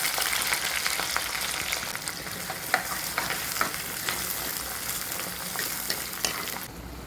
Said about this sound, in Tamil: அதில் கடுகு, வெந்தயம், சீரகம், பூண்டு, சின்ன வெங்காயம் போட்டு நல்லா வதக்குங்க